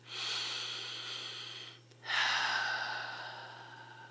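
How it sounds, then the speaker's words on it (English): Two long, deep breaths during a guided movement and relaxation session: a steady, airy exhale of about two seconds, a brief pause, then a second fuller breath, close and moderately loud with no talking. "Take a few deep breaths."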